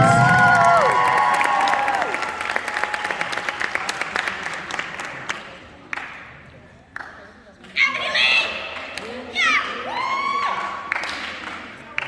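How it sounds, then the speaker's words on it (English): Applause and cheering at a high school band banquet honour the all-county band participants: sustained clapping, whoops and shouts from a crowd, with voices calling out throughout and swelling again in the latter half. "another round of applause for our all-county band participants"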